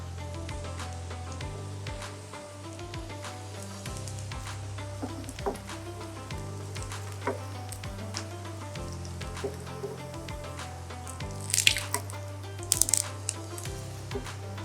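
Vada pav cutlets fry in hot oil with a soft, continuous sizzle, crackling spits and a few louder pops near the end over a low steady hum.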